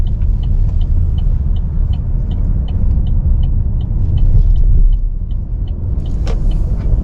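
A 2025 Buick Encore GX AWD's small turbocharged engine droning steadily under load with road rumble, loud and continuous, while a faint regular ticking chirp repeats above it.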